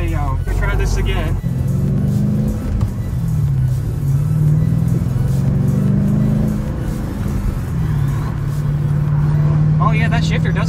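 A 2011 Dodge Challenger SRT8 with a manual gearbox drives on the road, its engine droning and rising steadily through acceleration, loud and continuous from the cabin.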